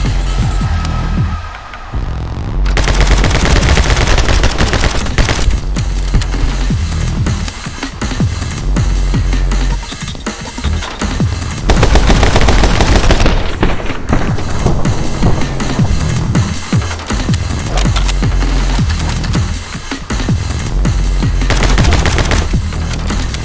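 Assault rifle fire from the video game My Friend Pedro, loud sustained automatic bursts with rapid repeated shots, pausing briefly and resuming several times over a throbbing backdrop.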